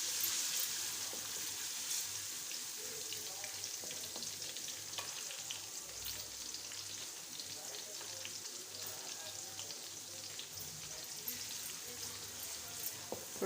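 Curry leaves and ginger-garlic paste fry in hot oil in a karahi, giving a steady, close crackling sizzle with occasional stirring scrapes that runs unbroken throughout.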